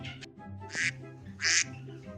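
A plump goose gives two short, loud, nasal honks, each one a single harsh squawk, separated by a low hum in the background.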